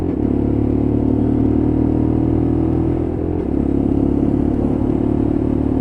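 A Lexmoto LXR motorcycle is ridden on an early-morning road, its engine a loud, close, steady drone that dips slightly midway before carrying on unbroken, with no talking.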